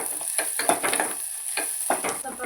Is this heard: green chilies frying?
yes